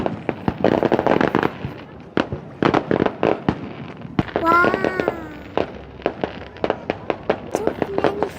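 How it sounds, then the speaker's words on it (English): Fireworks burst in loud, rapid volleys of booms and crackles at an Eid celebration in Old Wakra Souq, Qatar, with a child exclaiming excitedly between the blasts. "Too many fireworks! Too many!"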